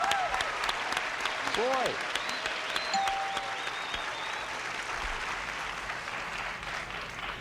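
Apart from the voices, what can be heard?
game show studio audience applause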